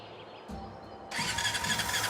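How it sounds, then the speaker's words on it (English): A steampunk engine in the Brassheart point-and-click game cranks over with a short rough chug, then catches and roars into a loud, steady running clatter, close and alone. "Let's give that engine a spin."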